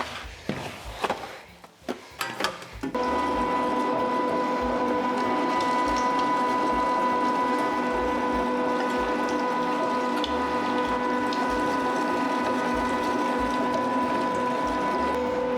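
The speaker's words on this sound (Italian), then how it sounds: "Allora io comincio a macinare." Electric meat grinder mincing meat for ciauscolo, a soft spreadable salami, starts after a few seconds of handling clatter. It then runs as a steady, loud motor drone with a constant whine that continues to the end.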